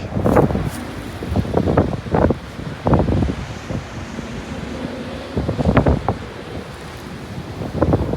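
Strong wind roars and buffets the microphone at a beach in Yui, Japan, rising in repeated loud gusts over a steady rush of surf, with no voices.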